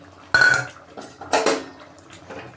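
Ingredients stirred in a cooking pot for an egg and vegetable dal with onion, garlic and green chili, giving two loud metallic clatters of a spoon against the pot separated by a pause, then quieter scraping.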